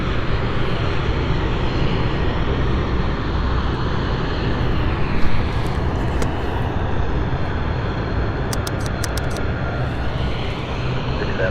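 An airliner departs the runway at London City Airport, its engines a loud, steady broadband roar that holds throughout with no letup.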